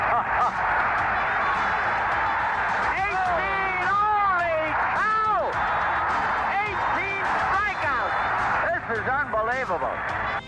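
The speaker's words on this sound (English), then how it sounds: "Crowd clapping on their feet," Baseball crowd at a 1978 Yankees home game against the Angels, a dense, sustained roar of applause and yelling from fans on their feet, with whistles and shouts rising over the steady clapping.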